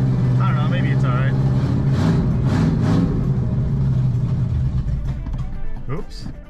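A Ramcharger's 383 V8 with open headers and a Flowmaster setup runs loud and close, its deep rumble rising and swelling into revs before easing back toward idle, with a voice speaking over it.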